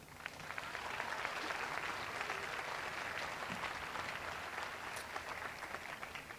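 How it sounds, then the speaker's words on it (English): A large high school commencement crowd applauds the dignitaries, a steady, fairly distant wash of many hands clapping that holds evenly for several seconds without talk. "If we can please give our dignitaries a round of applause."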